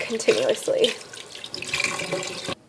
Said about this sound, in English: run cold water over the eggs for about a minute